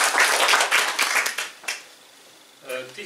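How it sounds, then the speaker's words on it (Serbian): An audience applauds to welcome the author at the launch of her novel "Ustoličenje jarca": lively, close clapping that fades after a couple of seconds into quiet, then a voice briefly starts speaking. "A vas molim da je pozdravite sa jednim aplauzom."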